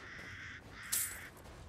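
Crows caw in the game Resident Evil Village: a couple of harsh, rasping calls, faint and distant-sounding, with a brief sharper call midway over quiet ambience.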